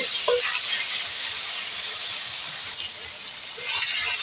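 Chopped tomatoes and spices fry in a pan with a loud, close, continuous hissing sizzle that dips briefly midway and then picks up again.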